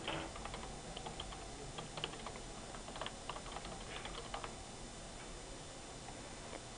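Keys clatter on a computer keyboard, quiet and close, in a steady run of irregular clicks over faint background hiss, tapering off toward the end.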